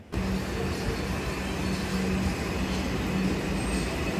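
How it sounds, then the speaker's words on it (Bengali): A Kolkata metro train at Dum Dum station rumbles steadily and loudly throughout, a continuous low rolling drone with faint wheel hum and no speech. "ট্রেন চলে এসছে"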